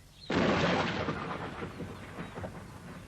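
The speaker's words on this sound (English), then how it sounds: "Gonna be a storm." A sudden loud crack of thunder from an approaching storm breaks out, then rolls and rumbles away, fading gradually over a few seconds with no voices.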